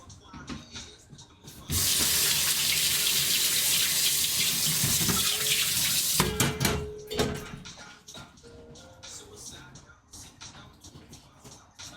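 A kitchen tap runs hard and loud for about four seconds, a dense rushing hiss as water is added to thin a buttermilk sauce, then shuts off, leaving clunks and small handling sounds.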